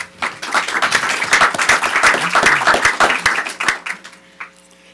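Sustained audience applause greets a guest speaker at a policy event on economic freedom, many hands clapping densely for several seconds before tapering off near the end.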